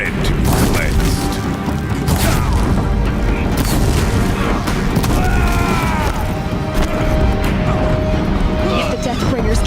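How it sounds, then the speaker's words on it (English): Deathbringer machines fire explosive rounds on a bridge in the video game Horizon Zero Dawn, a loud rolling barrage of booms and mechanical clatter under tense voices. "If the Deathbringers keep firing, this bridge will go."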